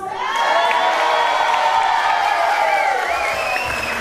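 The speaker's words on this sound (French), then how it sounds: "je crois qu'on peut les applaudir plus fort que ça" Guests at Dolores and Patrick's wedding cheer and whoop together with some clapping. The sound is a loud, continuous crowd roar of voices from start to finish.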